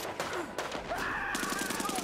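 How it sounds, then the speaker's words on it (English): Rapid bursts of old-style machine gun fire in the Brothers In Arms 3 war game, a steady chattering rattle over continuous battle din and game music. "Some sort of old school machine gun."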